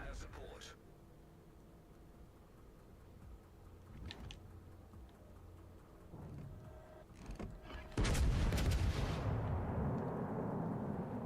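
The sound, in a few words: fire support artillery barrage in World of Warships: Legends video game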